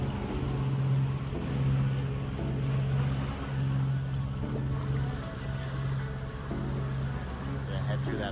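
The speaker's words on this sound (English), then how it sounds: "fishing boats cruising around." Fishing boat motors hum steadily, a low droning engine tone pulsing in long repeated swells over wind and water noise in the Caribbean.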